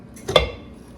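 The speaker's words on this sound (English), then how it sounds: "I don't want to beat on my glass dish." A cake pan knocks once against a glass dish in a home kitchen during pound cake baking, making a single sharp, close clink that rings briefly and fades.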